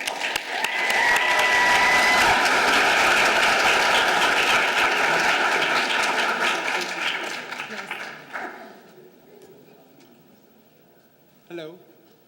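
An audience at a scientific lecture applauds to welcome the speaker, Dr. Fernando Fierro, with loud sustained clapping that fades out after about eight seconds, followed by a brief quiet stretch and a short sound near the end.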